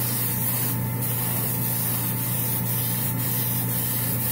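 Spray primer hisses steadily onto a textured sign on a Batman model build, a loud, close, continuous aerosol spray with slight pulses as the can shifts angles.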